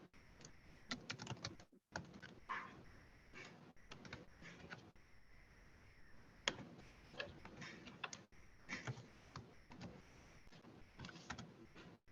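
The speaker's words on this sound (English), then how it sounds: "Whoever's typing like a maniac, congratulations on your fast typing" Fast typing on a computer keyboard heard through a video call, a dense, rapid run of light key clicks that keeps going with brief pauses.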